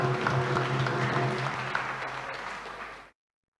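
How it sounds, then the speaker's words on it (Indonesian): Congregation applause at a New Year Mass in a Catholic parish church in Pemalang, a steady patter of clapping for about three seconds before it cuts off, with faint tonal sounds underneath. "Tepuk tangan untuk kelompok ini."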